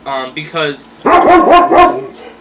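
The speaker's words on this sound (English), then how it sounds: "that's my dog" A dog lets out four loud, close barks in quick succession, right after someone speaks briefly indoors.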